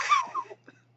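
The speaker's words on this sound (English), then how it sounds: "My coughing powers, apparently." A single close, loud cough with a throaty rasp in a comedy blooper, followed by a short softer catch of breath, with no speech.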